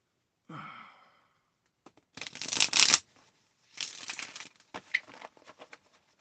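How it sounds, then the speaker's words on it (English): Tarot cards are riffled and shuffled in several crisp bursts after a soft exhale, with brief pauses between, close and fairly quiet. "let me shuffle the cards, Jade."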